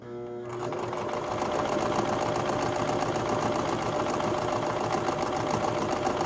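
A sewing machine runs a fast, even straight stitch for embroidery, its motor humming and needle chattering steadily and close after a short start.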